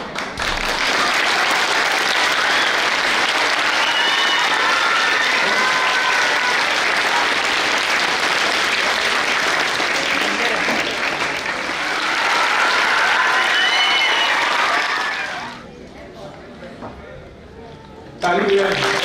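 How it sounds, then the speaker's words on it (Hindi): Audience applause at a school annual prize distribution, as a best social science student prize is presented on stage: dense, loud clapping sustained for about fifteen seconds, then dropping away to quiet room noise before a brief swell at the end. "तालियां।"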